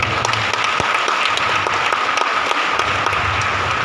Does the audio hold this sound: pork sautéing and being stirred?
no